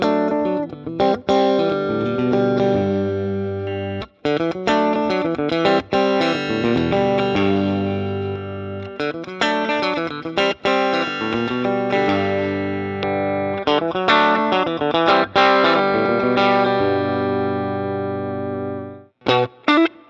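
A Ruckus RS Tribute electric guitar cycles through pickup positions, playing a distorted, chorus-tinged passage of strummed chords and riffs, with brief pauses between phrases as the tone shifts.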